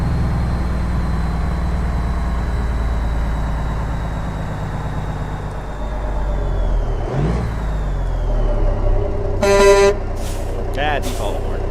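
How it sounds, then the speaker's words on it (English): Default horn of a modern flatglass Kenworth W900 truck with a straight-piped Cummins 444, sounding in a couple of short loud blasts near the end over a steady engine drone, after a brief rising whoosh. "Default horn."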